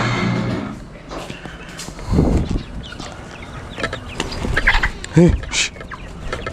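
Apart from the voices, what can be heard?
chickens clucking and flying around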